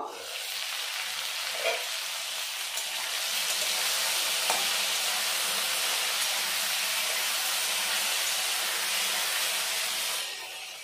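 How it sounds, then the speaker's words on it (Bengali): Taro stolons (kochur loti) frying in a pan give off a loud, steady sizzle and hiss that runs almost unbroken, with a faint clink near the start and no talking. "দেখুন লতিটা আমি ভালো করে ভেজে নিয়েছি।"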